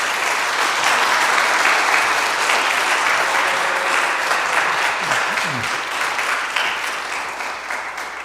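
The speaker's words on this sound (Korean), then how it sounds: "이제 나오실 때 아주 크게 박수해 주시기 부탁을 드립니다" A church congregation applauds a guest speaker at a Thanksgiving service, a dense, steady roar of many hands clapping that carries on for several seconds and slowly tapers off.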